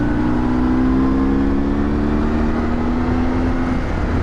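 A 2004 BMW R1150R motorcycle engine pulls hard under acceleration, a steady loud drone with a rising whine and wind rush throughout, no voices.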